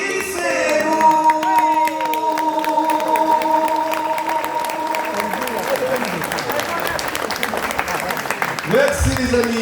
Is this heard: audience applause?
yes